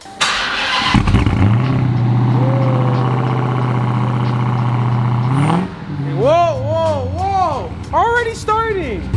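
A Mazda Miata engine cranks and catches, then settles into a loud, steady idle nearby before a few revs rise and fall; people talk over the engine toward the end.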